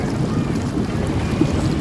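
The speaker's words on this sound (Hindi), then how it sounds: "और ये देखिए बोट जो हमारा पानी रिलीज कर रहा है यहाँ पे।" A boat releasing water near a temple campus in Darbhanga, Bihar, a continuous low rushing and churning of water with wind buffeting the microphone, steady and close, no talk.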